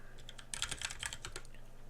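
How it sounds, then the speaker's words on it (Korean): Someone types on a computer keyboard while entering text into a spreadsheet cell, giving a quick run of soft, close key clicks with no speech. "칸이 선택된 상태에서 네, 입력하세요 라고 그냥 키보드를 두드리면"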